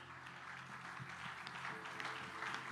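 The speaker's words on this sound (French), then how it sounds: "Nous allons acclamer pour la parole de Dieu ce matin." A church congregation applauding for the word of God, steady faint clapping from a crowd that sounds distant and continuous throughout, with no clear pauses.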